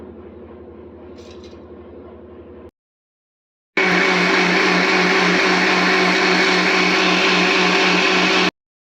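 Mixer grinder grinding peerkangai (ridge gourd) peel chutney with salt in a jar, a low motor hum that stops briefly and then returns as a loud, steady whirring roar, with no talk.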